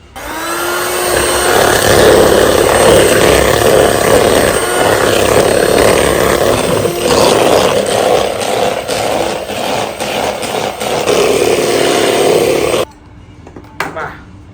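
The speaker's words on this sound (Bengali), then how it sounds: "এই ক্রিমটা এখন আমরা আবারও ব্লেন্ড করে নিব" An electric blender whips tropical whipping cream for a homemade birthday cake, a loud, steady whirring drone lasting most of the time before cutting off abruptly, leaving a quieter tail.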